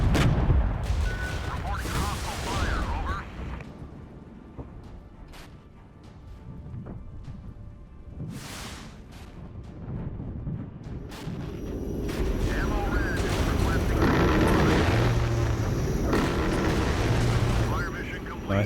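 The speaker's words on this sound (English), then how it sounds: "Let's see if we can get a gun run in there." Apache helicopter gun run in a Regiments battle: bursts of cannon fire and booming explosions, loud and close, some sharp and some rolling, with a voice talking over the combat.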